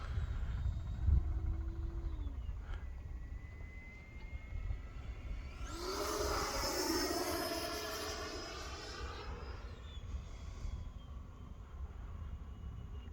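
An E-flite Viper 90mm electric ducted-fan RC jet sweeps overhead during a high-speed loop, its whine building loud between about six and nine seconds before fading away over a steady outdoor background.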